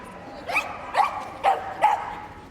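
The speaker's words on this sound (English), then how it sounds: "You can see a vocal dog, thoroughly enjoying herself." A small dog gives four sharp, excited barks at even intervals during a Crufts 2016 agility jumping run, fairly close over a quiet arena background.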